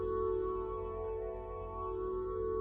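A sustained reverb tail from the PD Space Guitar Synthesizer 2 iOS app hangs in the air, steady tonal ringing with a gentle dip in level midway, alone without any voices.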